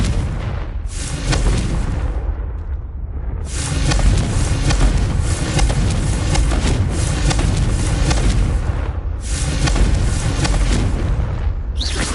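Confringo spell explosions in Hogwarts Legacy, loud booming blasts with long rumbling, crackling tails, one burst early and a sustained heavy barrage through most of the stretch, no talking.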